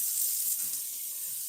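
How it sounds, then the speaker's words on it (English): Tap water runs steadily into a cooking pot being filled for boiling before a crab Alfredo sauce, a continuous hissing rush with no talk over it. "I'm gonna start adding some water here so we can start getting our water boiling"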